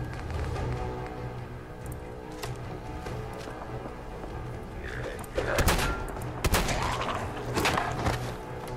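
Bursts of gunfire from the video game Fallout 4 crackle over a steady background hum, several sharp reports clustered toward the end, with a player's voice faintly heard in places.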